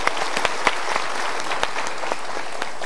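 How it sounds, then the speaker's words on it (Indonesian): A live studio audience claps together during a motivational talk show, a steady wash of applause with scattered sharper individual claps, moderately loud and with no talking over it. "Kita berikan tepuk tangan sekali lagi."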